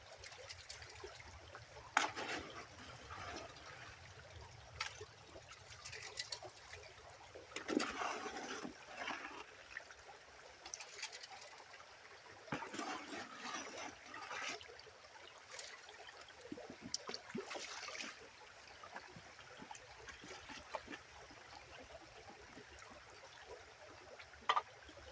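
Water trickles and splashes steadily through a gold-prospecting sluice working clay on an inside river bend, a continuous outdoor flow with brief louder gushes.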